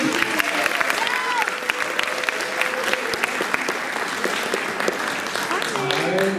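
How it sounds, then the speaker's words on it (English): An audience at a live school film festival applauds the 6th grade videos, a thick continuous clatter of clapping with scattered whoops and voices running through it. "a round of applause for our 6th grade videos"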